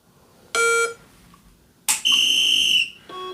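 Sharp electronic shot-timer beeps sound during dry-fire pistol training with a laser training system: a short beep, a longer sustained tone, then another short beep, all loud and close with quiet gaps between.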